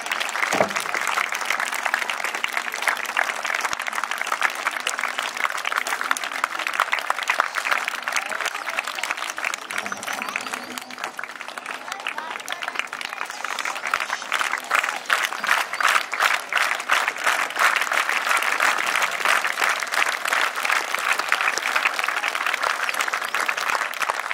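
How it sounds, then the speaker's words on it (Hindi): A school crowd at a Republic Day celebration gives a long, dense round of clapping to welcome arriving guests, loud and steady for the whole stretch with a brief dip midway. "तो जोरदार तालियों से स्वागत करते हैं।"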